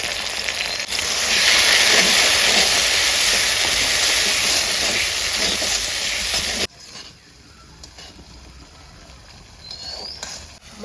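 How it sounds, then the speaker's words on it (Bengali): A ground spice paste of onion, mustard, ginger, cumin, green chili, turmeric and salt fries in a pan for fish curry. It gives a loud, steady sizzle that abruptly drops to a quieter crackle. "মশলাটাকে 5 মিনিট ভেজে নিলাম।"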